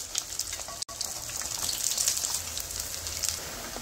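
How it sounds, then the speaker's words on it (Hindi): Potatoes for chilli potato being fried a second time in hot oil, giving a steady, bright sizzling hiss with small crackles and pops throughout, close and fairly loud. "आलू को दोबारा से फ्राई कर लेना है।"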